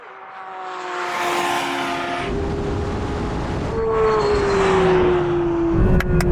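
A BMW M4 CSL or Porsche 911 accelerates hard from a launch, its engine note rising steadily in pitch through a loud, sustained roar, with a shift near the end.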